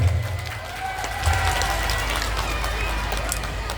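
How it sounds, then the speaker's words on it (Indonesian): An outdoor crowd at WBL applauds during a sermon gathering, a steady wash of clapping and cheering noise over a low rumbling hum, with a voice faintly present underneath. "Tepuk tangan untuk WBL."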